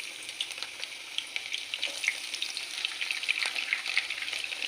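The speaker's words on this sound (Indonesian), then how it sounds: "Kita oseng-oseng bawang gorengnya ya sampai menguning" Oil sizzles and crackles steadily as fried shallots are stirred in a pan, with occasional scraping clinks; no voices.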